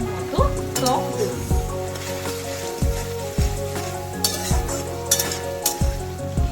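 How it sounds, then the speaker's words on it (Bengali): A tomato and ginger paste masala for dhokar dalna sizzles in a pan while being stirred, with regular scraping strokes about once a second over a steady bubbling fry, close by and free of speech. "টমেটো আর আদার পেস্টটা দিয়ে এটাকে ভালো করে নাড়াচাড়া করে নিতে হবে।"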